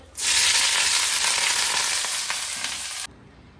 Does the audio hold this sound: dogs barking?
no